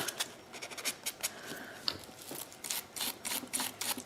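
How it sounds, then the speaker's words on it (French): Light, quick rasping strokes of a file across a resin-coated fingernail, soft and close, in short irregular scratches with no speech. "J'ai un petit Hiroshima qui s'est fait ici, donc on va venir le limer légèrement."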